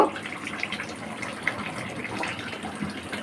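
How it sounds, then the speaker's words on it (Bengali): Hot water is poured into a pot of beef and potato curry, a continuous gushing, splashing pour of moderate loudness that runs steadily for a few seconds with no voices. "গরম পানিটা দিব"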